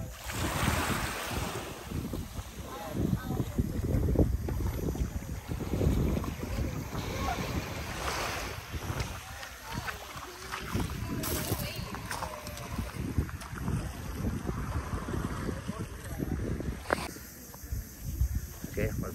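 A speedboat on the sea off a private beach at El Nido, heard as steady wind buffeting and rushing water and engine noise throughout, close and loud, with people talking over it.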